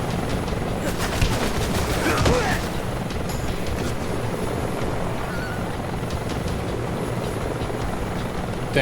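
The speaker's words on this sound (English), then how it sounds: "Damn helicopter spotted me." A helicopter hovering over the player in Metal Gear Solid Delta: Snake Eater on PS5 gives a steady, loud rotor roar that fills the whole stretch, with brief chirps and game effects layered on top.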